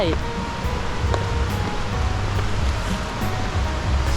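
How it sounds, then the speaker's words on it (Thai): Rushing water of Tad Yuang waterfall far below in southern Laos, a steady broadband roar with low rumble filling the background continuously, heard from a distance. "เสียงน้ำอยู่ข้างล่าง"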